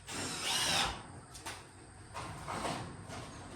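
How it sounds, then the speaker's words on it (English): A power drill drives self-drilling screws into sheet metal with no pilot holes, giving two or three whining bursts with short gaps between them, close and fairly loud. "I'm not pre-drilling these. These drill themselves pretty darn well"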